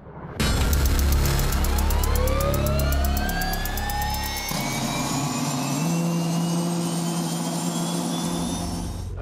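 Helicopter turbine engine in flight, a loud continuous whine with rising tones and a steady low roar that shifts partway through, with no voices.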